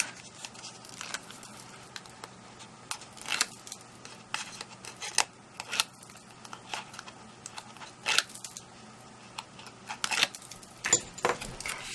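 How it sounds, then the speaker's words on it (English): Adhesive tape has its backing peeled away in a series of crisp, crackly rips and tearing bursts, repeated irregularly over a faint steady hum, close and moderately loud with no talking. "I'm just going to peel the backing off"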